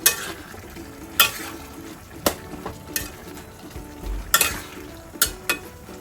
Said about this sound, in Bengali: একটা পোস্তটা ভালো করে নাড়চাড় করে নিই।